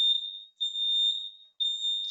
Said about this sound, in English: apparently this is fire alarm testing day